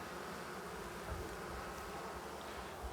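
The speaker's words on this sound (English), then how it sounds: "Evo ovdje vidite pčelu koja ima žuti polen, žutu pelud i ta pčela ne nosi pelud sa kadulje." A honey bee buzzes near sage flowers on a Balkan hillside, a faint, steady hum with no voices around it.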